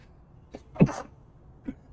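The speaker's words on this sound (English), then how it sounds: "Oh, gonna sneeze." A game character in Life is Strange: Double Exposure lets out a short sneeze near the middle, with a fainter breathy sound before it and another after.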